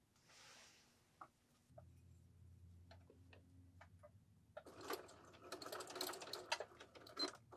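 A sewing machine stitching a rod pocket curtain, beginning with faint ticks and a low motor hum, then breaking into a louder, fast, rattling stitch run near the end.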